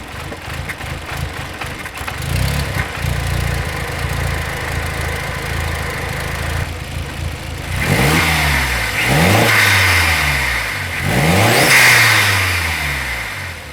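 A VW Polo 6N2 with a swapped quattro engine fires up and runs rough, then takes several rising revs that swell and fall back, loud and close with no talk.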